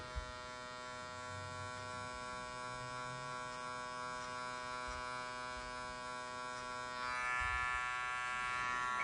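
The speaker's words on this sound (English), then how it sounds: "choose your favorite trimmer to line up around the neck" Electric hair trimmer lining up around the neck on a high taper fade, a steady close buzzing hum throughout that grows slightly louder and harsher near the end as it presses against the hair.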